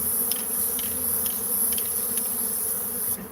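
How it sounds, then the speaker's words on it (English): A dense swarm of remnant honeybees buzzes steadily and loudly near at hand after a wall was torn open, a continuous drone with a few sharper passes, and no talk. "let these remnant bees, we're going to get out of their flight path"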